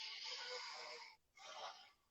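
A person breathing slowly and audibly, one long airy exhale followed by a short pause and a second breath, close and fairly soft with no talk.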